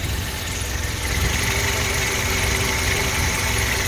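A Renault 5 car engine with blocked carburettor jets idles steadily and loudly nearby, a continuous low rumble with a faint rattling vibration.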